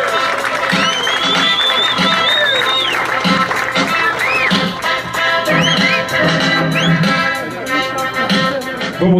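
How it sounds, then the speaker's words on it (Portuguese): A crowd at a DJ scratch battle final in São Paulo claps and cheers for a DJ, a loud, sustained wash of applause mixed with music and turntable sounds. "Salve de palmas, pessoal."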